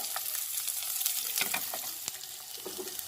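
Shredded cabbage, carrot and capsicum stir-fried in a hot pan for veg noodles, with a steady close sizzle and intermittent scraping stirs and clinks throughout.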